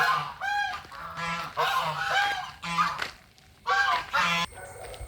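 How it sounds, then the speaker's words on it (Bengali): Ducks close by give loud, nasal honking calls in several bursts of three or four, separated by short pauses. "তো হাঁসগুলো বেশি বকতে ছিল"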